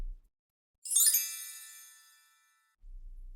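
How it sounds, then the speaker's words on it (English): A bright bell chime serves as a podcast transition: one clear ring strikes after a short silence and then decays smoothly over about two seconds, heard alone. "There's that bell sound effect that I don't know why I think that's so funny."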